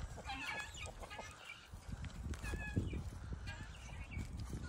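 Several chickens cluck and murmur close by, soft overlapping calls scattered throughout over a low rustling background.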